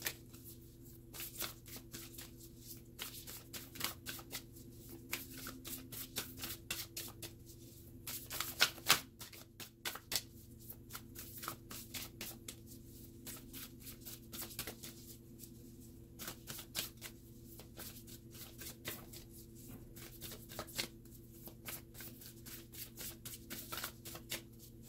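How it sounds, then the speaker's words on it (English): Oracle cards are shuffled by hand in repeated quick riffling bursts, close and fairly quiet, with brief pauses between bursts and the soft snap of a card being pulled partway through. "Finally, we're going to pull the last oracle card."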